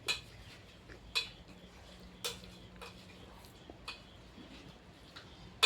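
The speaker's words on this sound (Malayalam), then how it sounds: "തൈര് പാകത്തിനൊഴിച്ച് ഒന്ന് നന്നായിട്ട് ഇളക്കുക." A spoon stirs curd into a tomato salad, giving faint, sparse clinks and taps against the bowl spread over several seconds in a quiet room.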